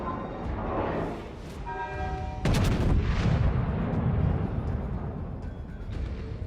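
A warship in a naval video game fires high explosive artillery rounds: a sharp, loud cannon blast in the middle, then a long rumbling roll over steady background noise, with faint tonal beeps and lighter shots before it.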